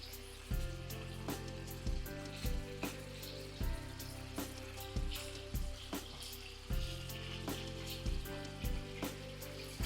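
Prawns frying in a pan give a steady close sizzle with regular clanks and taps from the pan or spatula through the clip, with no talking.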